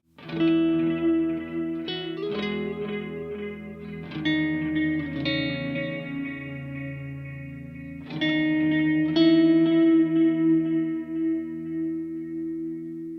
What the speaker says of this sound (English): I think is analog delay with modulation in it